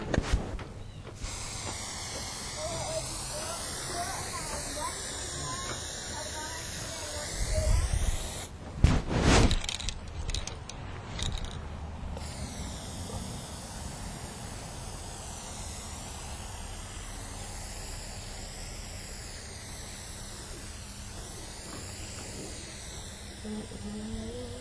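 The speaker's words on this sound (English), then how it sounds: "So I'm gonna use this kind of spray paint on a canvas." Long, steady hissing bursts of a spray paint can go on and off at close range onto a canvas, with a few louder rattling spurts in the middle.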